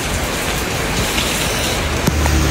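Heavy rain pours down outdoors in a loud, unbroken wash of drops hitting surfaces, with a faint thud near the end.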